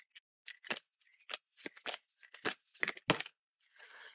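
Clarifier Deity oracle cards being shuffled, heard as a series of crisp, close riffling and snapping bursts separated by short pauses, quiet overall and alone.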